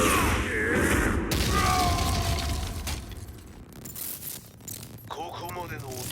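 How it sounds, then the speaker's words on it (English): A large explosion rips through the Mishima dojo in Tekken 7, with a heavy booming blast, crumbling debris and rattling pieces that settle into scattered clatter and small bursts. "Explosion confirmed at the Mishima dojo."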